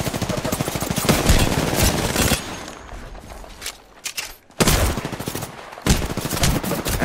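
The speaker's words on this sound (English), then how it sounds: "I'm getting shot." Rapid automatic gunfire from Apex Legends in loud, dense bursts, breaking off briefly near the middle and then resuming in sharp, close volleys.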